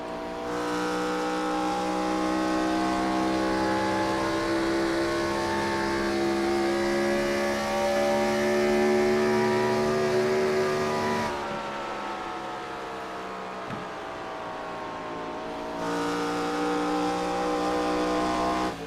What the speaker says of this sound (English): Simon able to get to the throttle just a little bit quicker than Chris Leftwich is